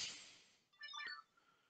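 A mobile phone rings with a brief electronic melody of a few tones, fairly faint and following a fading hiss, with no one talking over it.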